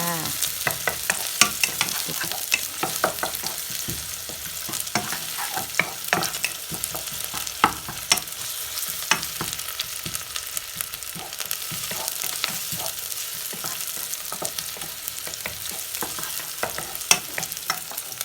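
Roasted chili paste stirred in a frying pan, with a steady sizzle and repeated scraping and tapping strokes of the spatula, close and continuous with no talking.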